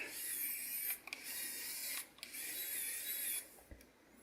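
A high, steady mechanical whine from a Kaiweets ES20 cordless precision screwdriver changing torque, cutting out briefly about three times, fairly quiet and close.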